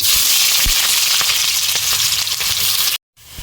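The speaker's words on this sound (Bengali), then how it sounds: "পেঁয়াজটা ভাজা ভাজা হয়ে গেছে" Onions sizzle and crackle in hot oil, a loud steady frying hiss with occasional pops, close up, then it cuts off briefly.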